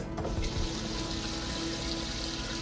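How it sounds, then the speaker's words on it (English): Tap water pours steadily into a pot of big potatoes, a full, close rushing stream that fills the pot without a break from start to finish. "so I cover the potatoes with water"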